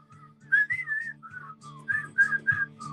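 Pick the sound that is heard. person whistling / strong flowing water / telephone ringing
person whistling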